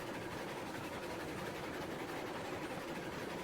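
A Heisler geared steam locomotive runs in the train game Railroads Online, giving a steady, dense rumble of engine and rolling wheels with faint rhythmic clatter, close and continuous with no talking.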